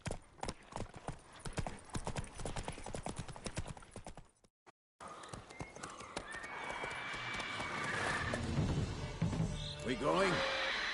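Roach the horse galloping in The Witcher 3, rapid rhythmic hoofbeats at first, then a brief drop to silence followed by a neigh and continuing hooves under swelling game music and effects.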